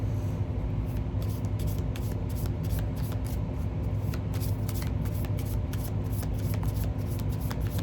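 An oracle card deck is riffled and shuffled near the mic, a steady stream of rapid papery flicks and slaps that runs continuously for several seconds with no speech.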